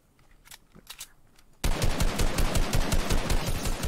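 Rapid automatic gunfire in the video game Fortnite, a loud sustained burst of fast repeated shots that starts abruptly after a few quieter scattered shots.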